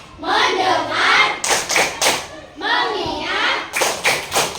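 Children play the rhythmic tepuk fokus clapping game with their teacher, chanting in unison while sharp claps and thumps come in short bursts between the group's voices, close and loud.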